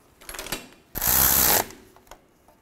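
Ratchet wrench tightening a bolt at the rear wheel hub of a 2011-2021 Jeep Grand Cherokee, with a short burst of close, loud rapid clicking after a few faint earlier clicks.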